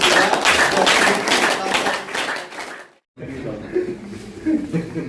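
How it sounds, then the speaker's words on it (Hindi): Audience applause welcoming a speaker at a distributor programme held at Karna Lake, Karnal: dense clapping mixed with chuckles and chatter, a brief gap, then softer continued clapping and crowd murmur. "जोरदार तालियों से स्वागत करें ओम प्रकाश सैनी"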